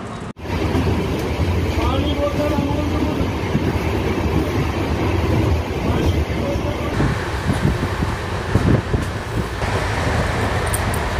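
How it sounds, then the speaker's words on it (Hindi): The Patna Ranchi Jan Shatabdi Express standing at a station platform, a loud steady rumble of the train and station bustle, with people talking throughout. "प्लेटफॉर्म पर आ चुकी है पटना रांची जन शताब्दी एक्सप्रेस"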